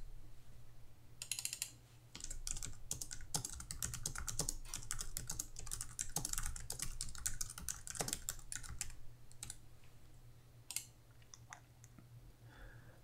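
Rapid typing on a computer keyboard while naming a sequence in Finale notation software, a dense run of close, crisp key clicks with a brief pause near two seconds and sparser taps toward the end.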